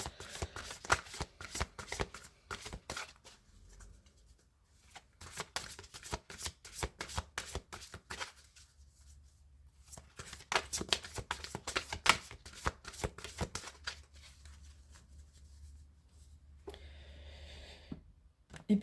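Tarot cards being shuffled by hand: repeated bursts of quick, papery riffling and slapping, close and fairly quiet, separated by brief pauses, with no one talking.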